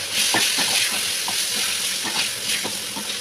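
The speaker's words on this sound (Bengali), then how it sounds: "লাল লাল করে বেগুনগুলো ভেজে নিয়েছি" Eggplant pieces sizzle and fry in a pan with black cumin, turmeric, salt and green chillies, a loud steady crackling hiss with occasional stirring scrapes, close up and without speech.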